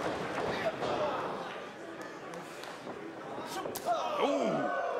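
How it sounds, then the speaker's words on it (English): A wrestler's knife-edge chop lands in an indoor ROH bout in Dearborn, Michigan: sharp slaps ring out over a crowd's murmur and reactions, with a clear smack near the end. "He's in the knife edge, chopping another."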